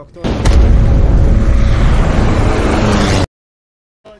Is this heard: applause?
no